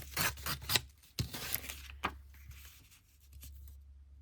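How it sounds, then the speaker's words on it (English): Folded paper being cut along a fold line with scissors while making an envelope accordion journal, giving a few close, short crisp snips and rustles with quiet gaps between them. "So I'm just gonna cut that line there."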